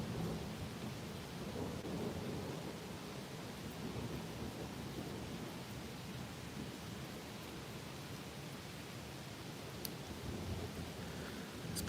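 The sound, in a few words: thunder during a heavy rainstorm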